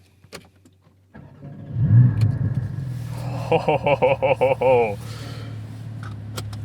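Porsche Cayman with sport exhaust enabled starting up with a deep burble, then a rapid series of about eight sharp revs climbing and falling before settling to idle, loud and close, with someone speaking over it.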